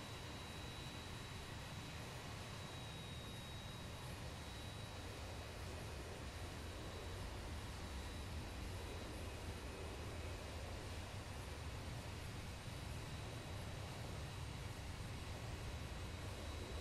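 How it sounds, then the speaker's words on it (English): Steady, distant roar of a Horizon Air airliner on final approach to runway 24 right at LAX, a constant broadband engine rumble at low level throughout with no voices. "Horizon Air 2169 LA Tower, runway 24 right, clear to land."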